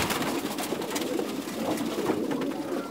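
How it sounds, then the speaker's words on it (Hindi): A Fulsara pigeon coos close by, giving soft repeated throaty calls over a noisy background. "है फुलसरा कबूतर है।"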